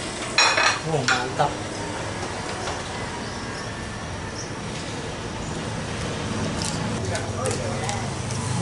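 Cleaned snakehead fish, rubbed with lime, frying in a pan, giving a steady sizzle throughout with a few louder clatters and stirring noises near the start.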